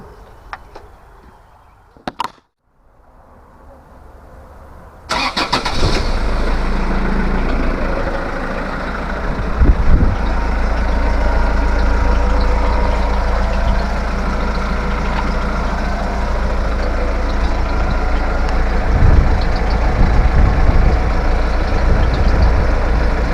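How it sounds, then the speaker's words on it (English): After a few clicks and a brief pause, a campervan's heavy diesel engine cranks and starts, then settles into a steady, loud, low rumbling idle. "So I'm going to start the engine now."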